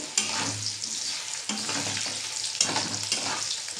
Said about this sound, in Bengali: এবার আমি একটু নেড়ে নেব, ভালো করে একটু নেড়ে নেব।